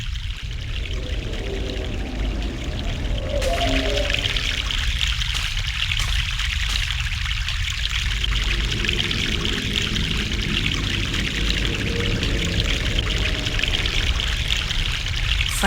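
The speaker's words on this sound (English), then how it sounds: "Fresh mountain water." Fresh mountain water pours in The Longest Journey, a continuous rushing splash that stays loud and steady for about fifteen seconds, with no voices.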